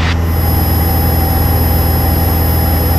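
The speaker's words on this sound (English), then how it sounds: "You can also hear the engine speeding up a little bit, as there's less resistance." Light aircraft engine in flight during a student pilot training lesson, a loud steady drone with a faint rising pitch as the revs climb, heard continuously from inside the cockpit with no talk.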